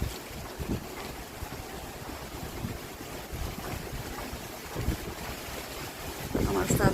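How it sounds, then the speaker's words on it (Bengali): Steady rain and gusting wind sweep across a rooftop garden with swaying banana plants, a constant loud wash of noise with no clear breaks. "বৃষ্টি হচ্ছে, বাতাস হচ্ছে।"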